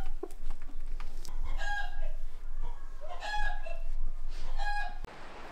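Chickens in Aremd, a mountain village at 1900 metres in Morocco's Toubkal valley, cluck and crow repeatedly at fairly close range, with a rooster's calls rising over a busy outdoor background.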